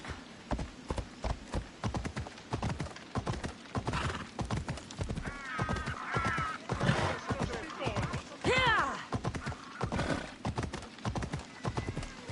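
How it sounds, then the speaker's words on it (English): A horse gallops in the video game Assassin's Creed Odyssey. Rhythmic hoof clip-clops run throughout, with a couple of neighs and whinnies rising above them, and brief voices heard along the way. "Ride, Phobos"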